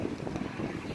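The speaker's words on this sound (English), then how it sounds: "And it's windy" Wind buffets the microphone outdoors beside an RV, a low, gusty rumble that stays fairly steady and faint through the brief moment, with no voices over it.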